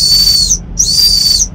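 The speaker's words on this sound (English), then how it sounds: "It's a whistle." Emergency whistle blown in two sharp, shrill blasts, each about half a second long, loud and close, with a brief gap between them and no talking.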